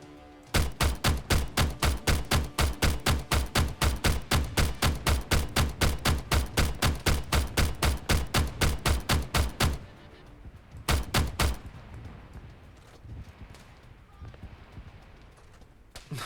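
Mounted machine gun in Arma III firing a long, steady burst of loud, evenly spaced rapid shots close by, then a short second burst, then quieter ambient noise.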